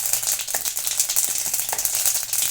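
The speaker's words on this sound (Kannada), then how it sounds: "ಅದನ್ನು ನಾನು ಈರುಳ್ಳಿ ಹಾಕ್ತಿದ್ದೀನಿ, ಚೆನ್ನಾಗಿ ಸ್ವಲ್ಪ ಫ್ರೈ ಮಾಡೋಣ" Thick-cut onions hit hot oil already tempered with mustard seeds for a sambar, giving a steady, close sizzle and crackle with faint rattling throughout.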